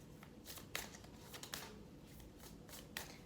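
Oracle cards shuffle by hand in a quiet room, repeated soft riffling bursts and slaps coming in uneven rhythm, close and faint.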